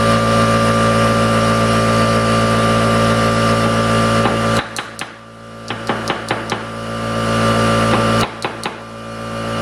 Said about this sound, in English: Sorry about that compressor noise.